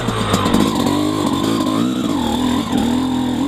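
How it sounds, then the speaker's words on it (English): A motorcycle fitted with a Keihin 38 carburetor, STIC and JD jetting lugs along at very low RPM in first gear without the clutch. It makes a steady, close, loud engine drone with slight pitch swells and no talk. "we'll test the bike's torque output at extremely low RPMs in both 1S and 2N gears"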